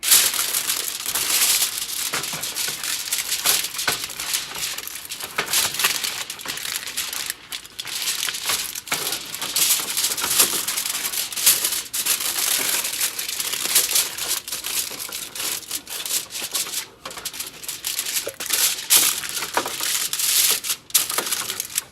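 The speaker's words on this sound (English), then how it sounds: "you're just going to lay it with aluminum foil." Aluminum foil crinkles and crackles as it is spread over a sheet pan, a long, dense run of close crumpling and rustling bursts that continues without pause and without voices.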